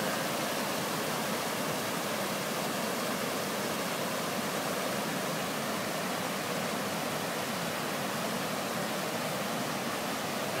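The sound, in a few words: flood water rushing down a spillway into Big Thompson river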